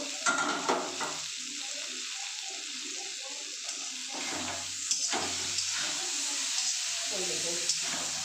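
Onions and eggplant sizzle in a pan while a spatula stirs them, scraping sounds coming in short bursts over a constant frying hiss, with someone speaking intermittently nearby.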